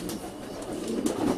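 Homing pigeons on a loft roof cooing together, a low throaty burbling that swells in soft repeated pulses over a steady outdoor background, fairly quiet and unbroken by talk.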